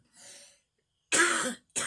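A faint, breathy throat-clearing sound, then a brief pause before two sharp, close coughs, the second clipped short.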